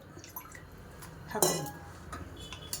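Rice being washed in a bowl with water for tomato sambar: light watery swishing and dripping with small clinks of the vessel, one brighter splash and clatter in the middle, close and quiet.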